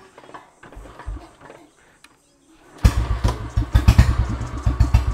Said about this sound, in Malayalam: അപ്പോൾ നമ്മൾ ബുള്ളറ്റ് ഓടിക്കുകയാണ്. ഞാനത് കീ ഓൺ ചെയ്തു, ആംബിയർ സെറ്റ് ചെയ്തിട്ട് ഓടിക്കാം കേട്ടോ.